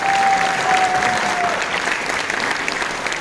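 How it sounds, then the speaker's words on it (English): A large audience at a chess prize-giving ceremony gives a sustained round of applause, dense clapping that holds steady and fills the hall for a few seconds. "A big round of applause for Arjun Nargasi and Levon Aronian."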